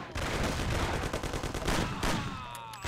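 Rapid gunfire in the video game Mafia, a loud, steady run of shots with a few brief gaps and a metallic ring toward the end.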